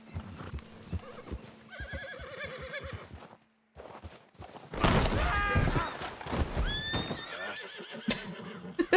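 A big black horse in the Red Dead Redemption 2 video game clip-clops with hollow hoof thuds, then lets out a loud, drawn-out whinny, followed by more hoof knocks and snorting.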